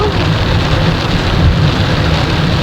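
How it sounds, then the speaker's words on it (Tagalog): Heavy rain pours steadily in a dense, continuous roar with a deep low rumble beneath it, loud and close throughout with no voices. "O tapos malakas ang ulan."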